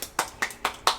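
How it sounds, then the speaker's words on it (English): A child claps hands five times in a steady rhythm, the crisp close slaps evenly spaced and fairly soft. "Clap your hands."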